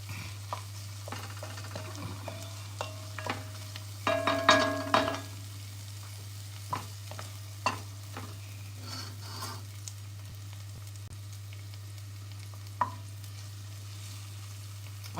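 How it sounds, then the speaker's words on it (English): Butternut squash caramelizing in a pot while a spoon stirs it, producing scattered scrapes and taps over a low steady hum, with a brief busier burst of stirring near the middle and no voices. "So you see where it starts to caramelize? Just keep stirring."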